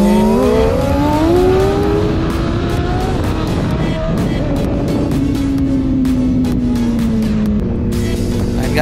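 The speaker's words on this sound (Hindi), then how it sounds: "मेरे साइड में चल रही इंट्रूडर और उसी के साइड में हार्ले डेविडसन 750 और अभी पीछे एसएल की भी आ रही है" A group of superbikes, among them a Suzuki Intruder and a Harley-Davidson 750, riding together on the road, a loud continuous engine roar with rising and falling revs and steady wind rush throughout.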